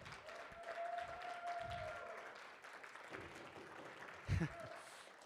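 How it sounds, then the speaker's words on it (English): A campus talk audience at Penn State applauds a guest speaker, moderate clapping spread through the room, partly under speech and a held tone, with a short louder burst near the end. "Everybody give him a big round of applause."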